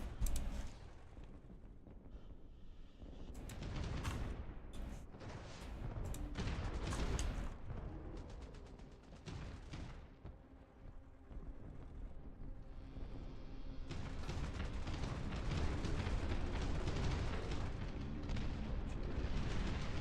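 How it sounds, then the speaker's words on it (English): Howitzer artillery fire in a strategy video game, a rolling series of heavy booms and rumbling blasts that keep coming throughout, loud and dense with no talk over them. "Yo, this range on these howitzers. From here to here, they're standing all the way in the back. Providing artillery fire."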